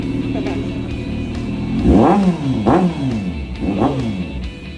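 A motorcycle engine idles, then revs hard three times in succession, each rev rising sharply and falling back, loud and close.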